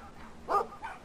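A big dog in the video game Brothers: A Tale of Two Sons gives one short bark followed by a softer second yip, fairly quiet over low game ambience.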